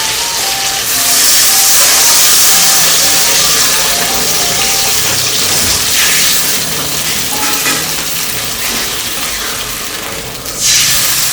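Water poured into a hot pan of Bengali egg curry to make gravy hisses and bubbles loudly and steadily, close up, with a brief surge near the end.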